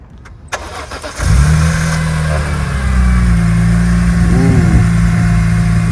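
A BMW E46 M3 cold-starts with a crank and catch, then settles into a loud, steady, deep idle with a brief rise in revs, heard close up from the engine side.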